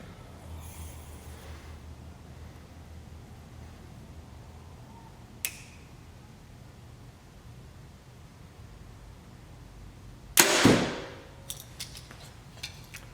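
An arrow shot from a bow gives one sharp, loud snap of release with a brief ringing decay, preceded by a faint click, over steady outdoor hiss.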